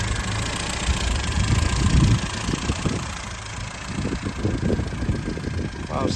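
A rally-prepared classic Mini with a 1275cc engine idles from a cold start, a steady low rumble with uneven pulsing, heard close under intermittent speech.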